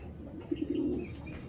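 Racing pigeons, a silver cock among them, coo softly at a loft, a short low murmuring call rising briefly over faint background noise.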